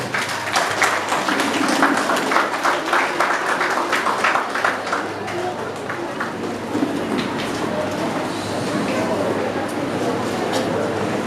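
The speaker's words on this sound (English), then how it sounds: "Please give him a loud round of applause" Dense crowd applause at a school Independence Day ceremony in Kalyani, India, rattles on steadily, a busy patter of many hands clapping that eases slightly toward the end, with a voice briefly heard.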